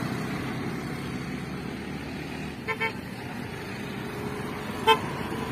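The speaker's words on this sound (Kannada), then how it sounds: "ಯಾವುದೋ ಗಾಡಿ ಬಂತು, ಕೇಳೋಣ." A vehicle on the road nearby gives a couple of short horn toots over a steady engine and traffic rumble, with a final louder honk near the end.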